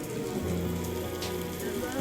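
Rain patters steadily on a surface, a close, even hiss of drops with a faint low hum beneath.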